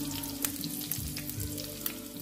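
Onion eggs frying in a pan, a soft, steady sizzle with a few small pops and crackles standing out near the end.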